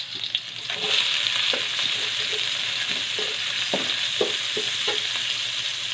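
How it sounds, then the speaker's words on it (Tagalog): Ginger and onion sauté in a hot pan for a Filipino bopis, a steady close sizzle running throughout with soft, irregular clicks and scrapes of a utensil stirring. "Igisa natin ang luya. Sibuyas."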